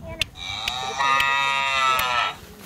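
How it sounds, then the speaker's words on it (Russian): A domestic cow moos once in a long, drawn-out harmonic call lasting well over a second, loud and close, with a few faint clicks before it and no talk. "Корова."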